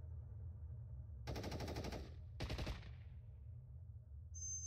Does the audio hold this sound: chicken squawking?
no